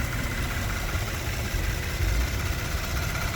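Twin-turbo 3.3-liter V6 in a 2019 Kia Stinger GT2 idling at a car dealership, a steady low rumble with an even, unbroken drone, close and constant, no talking.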